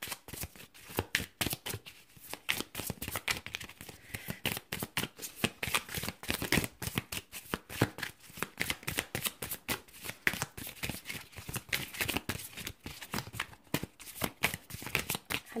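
Tarot cards riffled and shuffled again and again in quick, crisp bursts, close and fairly loud, with occasional soft card slaps as cards are drawn.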